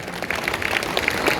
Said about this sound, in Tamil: நமது கைத்தட்டல்கள் வாழ்த்துக்களை சொல்லுவோம்